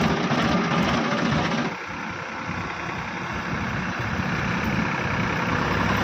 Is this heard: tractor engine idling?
yes